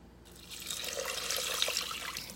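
Water pours into an Instant Pot onto dry oats, a close, steady splashing trickle that builds slightly and carries on alone for a couple of seconds.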